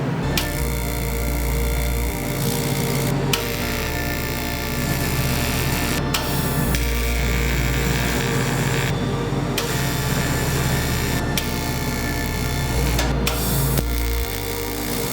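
Tack welding a turbo exhaust tube on a Chevy Cruze 1.8T: steady crackling arc bursts of several seconds each, separated by short pauses, close and fairly loud with no talking.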